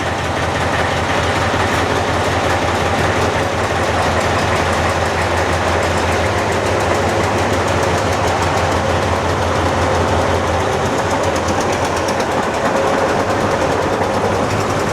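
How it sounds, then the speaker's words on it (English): A tractor engine runs steadily on a racetrack at Sydney Motorsport Park, a continuous loud mechanical rumble with a rhythmic chugging and no talking. "shuffling to do with the tractors"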